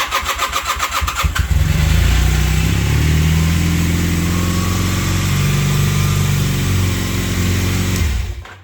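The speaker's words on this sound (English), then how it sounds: "Pulling the clutch. Pull the choke out. Fuel's on. Runs." A motorbike engine with the choke pulled out cranks with rhythmic starter pulses, then catches and runs at a loud, steady, close idle before shutting off at the end.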